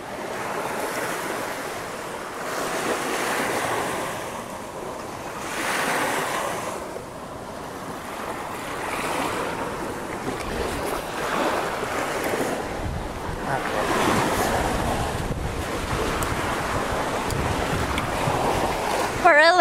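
Waves surge and wash in rolling swells by the Prairie du Sac Dam, mixed with a steady wind rush, while people talk faintly beneath the water noise.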